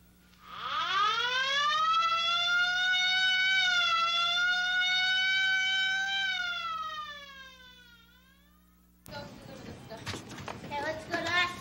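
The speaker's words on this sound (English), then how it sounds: "Ambulance." An ambulance siren wails in one long rising and sustained tone that fades out, followed by a voice speaking briefly.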